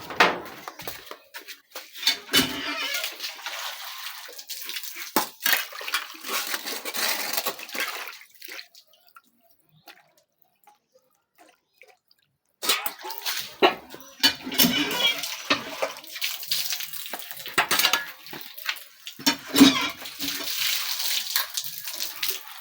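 A freshly cut lemon rinsed under a running tap, splashing water heard close in two bursts separated by a quiet pause, with clattering in between.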